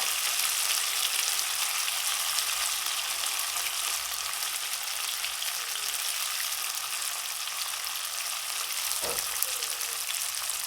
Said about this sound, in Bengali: মাছটা বারবার পাশ ঘুরিয়ে এপিট ওপিট করে ভেজে নিতে হবে যাতে সব সাইডটা খুব ঠিক মতো ফ্রাই হয়